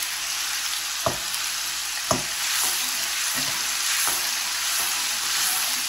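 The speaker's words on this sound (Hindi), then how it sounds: "अदरक लहसुन का पेस्ट डाल देंगे। इसको बस 1 मिनट हम ब्राउन करेंगे" Ginger garlic paste sizzles and fries steadily in a hot pan for an egg and potato korma, with a few sharp scraping stirs of a spoon cutting through the constant crackle; no one speaks.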